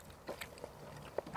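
Beef seasoned with salt and pepper is bitten and chewed at close range, giving soft, moist crunches and a sharper bite near the end, with no talk.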